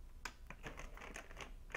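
Plastic bags are handled close by, with a quick series of sharp crinkles and rustles at an irregular rhythm and no speech over them.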